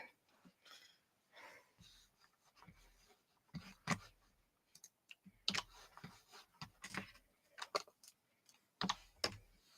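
Typing on a spare corded computer keyboard produces irregular bursts of sharp key clicks and clacks at close range, the rhythm stopping and starting with short pauses between runs.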